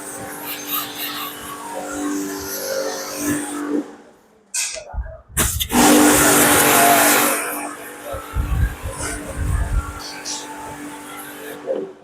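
A wall-mounted pressure washer with an orange nozzle rinses a bike. The motor hums and the spray hisses, with a brief pause and then a louder burst of jet noise, while a person talks over it.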